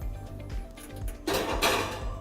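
A pan of keto bread goes into a preheated oven, with soft knocks and a brief clatter of metal against the rack, then a louder scrape and rattle as it slides in close by.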